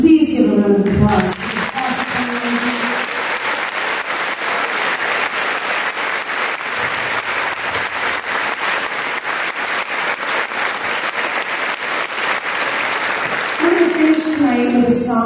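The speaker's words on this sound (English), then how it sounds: "So can we please give them a round of applause?" An audience at a high school spring choir concert breaks into sustained, steady applause that fills the room, with a speaker's voice briefly heard at the start and end.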